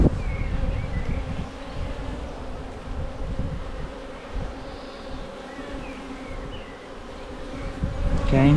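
Honey bees drone inside an opened hive during an inspection after a swarm, a dense continuous buzz close to the microphone with faint handling rustles, swelling slightly toward the end, no speech.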